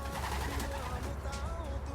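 Soft pigeon coos repeat over a steady low hum and faint background chatter, birds close by with a gentle, rolling rhythm.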